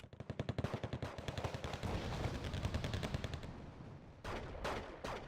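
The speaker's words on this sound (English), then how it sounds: "Let's go ahead and fire on these guys." Units in the video game Wargame: Red Dragon open fire, a rapid machine-gun rattle that starts in distinct bursts and blurs into a dense, continuous roar of gunfire, with a few heavier shots near the end.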